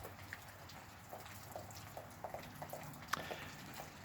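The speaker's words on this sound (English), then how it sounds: "Rain is coming down." Rain falls outdoors in Alabama, a faint, steady patter with scattered individual drops and occasional louder drips ticking against surfaces, heard alone without voices.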